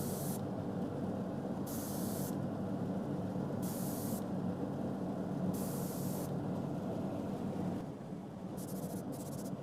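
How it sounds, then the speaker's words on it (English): Short bursts of aerosol spray paint hiss through a mesh onto fishing crankbaits in a steady rhythm over a constant background hum, with quick double sprays at the end. "I'm actually going to spray it through my mesh"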